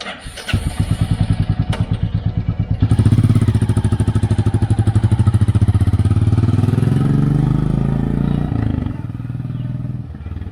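A Royal Enfield Classic 350 single-cylinder motorcycle thumps close and loud, starting with a few uneven pulses before settling into a steady rapid beat, revving briefly then holding a constant idle-like rhythm with no talking.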